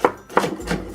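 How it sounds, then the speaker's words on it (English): A knife chops through an onion on a cutting board during wonton soup prep, three crisp, evenly spaced knocks sounding close and clear with no talking. "I forgot how to cut the onions. So we'll slice it down the middle."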